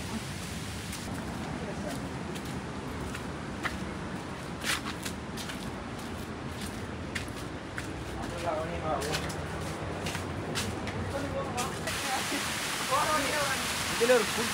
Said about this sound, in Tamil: இதில் ஒரு குட்டி அருவி உண்டு.